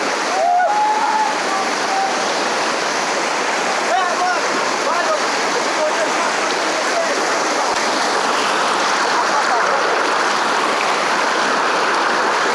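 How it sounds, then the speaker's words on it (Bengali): Loud, steady roar of the swollen Suptadhara and Sohosrodhara waterfalls, rushing water pouring continuously and close by, with faint voices briefly audible under the torrent. "পানির ফ্লোটা দেখুন কত স্পিডে পানি যাচ্ছে"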